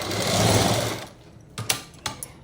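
A sewing machine stitching a latkan design on a blouse runs in a loud, steady whir for about a second, then stops, leaving a few sharp clicks and taps nearby.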